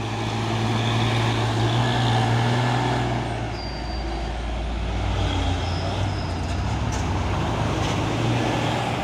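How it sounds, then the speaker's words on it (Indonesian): A Hino 500 trailer truck hauling a large container rumbles past on a busy highway, its deep diesel drone loud and close, with a brief hiss and other traffic around. "Waduh, ini truk trailer ini, wis ganteng"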